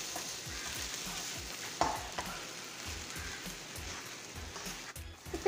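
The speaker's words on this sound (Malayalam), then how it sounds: "ഇനി നമുക്കിത് നല്ലപോലെ അങ്ങ് മിക്സ് ചെയ്തെടുക്കാം." Sughiyan filling mixture is stirred in a hot pan, with a steady soft sizzle under repeated scraping strokes of a spoon, close and fairly quiet, with a few sharper clacks.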